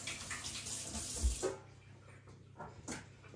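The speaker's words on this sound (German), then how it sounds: "Dazu legen wir unser Schäuferle erstmal in den Bräter und müssen es mit kochendem Wasser" Boiling water from a kettle is poured over a pork shoulder (Schäuferle) in a roasting pan, making a rushing, splashing pour for about a second and a half before it trails off into quiet drips.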